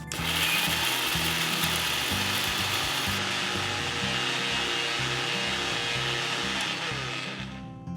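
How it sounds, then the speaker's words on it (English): An electric grinder whirs steadily, grinding roasted spices with cardamom seeds and turmeric powder for a Goan jeerem spice mix; the loud continuous buzzing motor runs alone for about eight seconds with faint rattling of the contents, easing slightly at the end. "Let's grind this into our spice mix."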